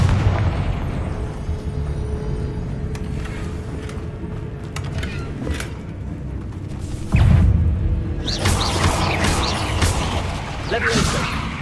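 Fire spells from Hogwarts Legacy explode in the video game, a rumbling mix of booms and crackling bursts with a heavy blast about two-thirds through and more crackle after it, while a voice talks at times over the action.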